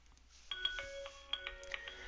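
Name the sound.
Avaya IP Office phone ringing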